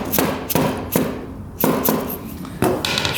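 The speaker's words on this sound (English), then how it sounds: "Might need a little bit of a hammer hit." A hammer striking a dirt bike engine cover, five or six sharp, solid knocks spaced about half a second apart, close and fairly loud.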